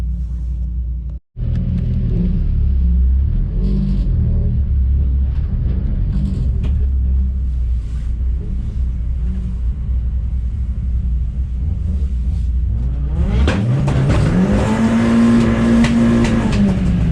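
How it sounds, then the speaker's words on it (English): European front-wheel drive race cars run at Crail Raceway with a loud, continuous engine roar, then a rising rev as a car accelerates hard and passes close near the end. "we've got the European front-wheel drive guys out doing the run"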